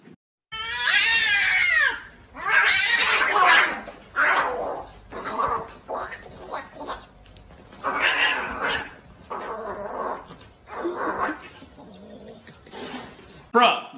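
A person imitates a cat with a string of drawn-out meows and yowls, loud and close, each cry separated by short pauses.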